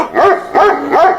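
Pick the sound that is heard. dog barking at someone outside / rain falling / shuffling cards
dog barking at someone outside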